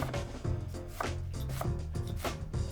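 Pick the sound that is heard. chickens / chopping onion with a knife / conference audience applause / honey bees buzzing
chopping onion with a knife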